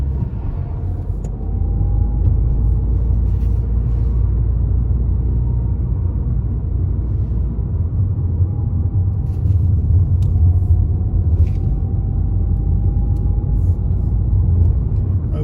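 Car engine rumbles steadily from inside as it pulls away from a junction on a Netherfield driving test route, a low, even drone with slight pitch changes as it gains speed.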